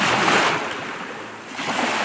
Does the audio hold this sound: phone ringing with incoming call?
no